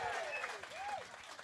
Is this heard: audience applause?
yes